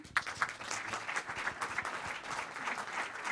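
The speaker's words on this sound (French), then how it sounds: "merci beaucoup, on applaudit." Studio audience at a television export program applauds, a brief burst of close, fairly faint clapping with uneven bursts and no voices over it.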